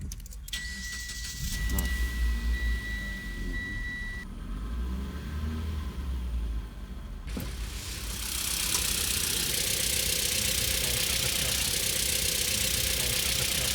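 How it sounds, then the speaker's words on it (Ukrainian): A used car's engine is started partway through after a quiet stretch. A sharp burst marks the start, then it settles into a steady, soft, even running hum until the end. "І зараз я заведу двигунець."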